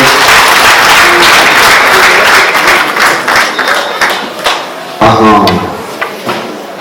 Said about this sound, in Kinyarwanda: Muryango mugari mundu n'amashyi menshi cyane by'aba basore rwose.